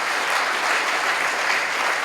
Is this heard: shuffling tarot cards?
no